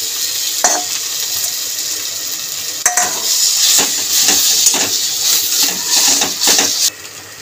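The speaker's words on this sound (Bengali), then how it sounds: "এবার মাখা যে মোচা আর আলু সেদ্ধটা সেটা দিয়ে দেবো কড়াইয়ের মধ্যে" Mashed banana flower and boiled potato hit a hot wok and sizzle, with a spatula scraping and clanking against the metal as the mixture is stirred. The frying and stirring are close and fairly loud, with no talk.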